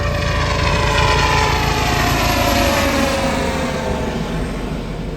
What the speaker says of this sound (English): Coast Guard chopper coming through.